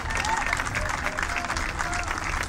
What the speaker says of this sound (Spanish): Dele ese fuerte aplauso al Señor, amén.